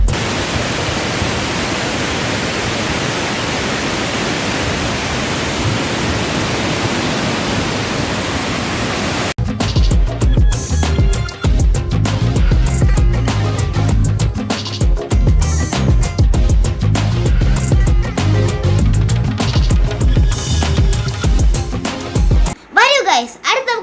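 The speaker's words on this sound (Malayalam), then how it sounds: "നമുക്ക് വെള്ളത്തിന്റെ സൗണ്ട് കേൾക്കാം" Water rushes loudly at a dam, a steady, full roar that fills the whole stretch and shifts to a rougher, closer churning partway through, with no pause.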